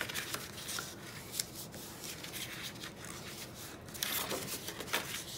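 Cardstock for a tiered recipe box is folded inward along its score lines, giving faint close papery rustles, soft scrapes and creases from handling.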